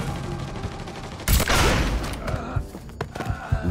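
Gunfire in the video game Mafia 3 erupts as a sudden loud burst of rapid shots, then scattered thuds and further shots follow over a steady game backdrop.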